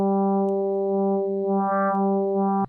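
Guitar-like tone from an FM synth built by one operator modulating another, holding a single steady harmonic-rich note with a faint swell near the middle, loud and alone before cutting off sharply.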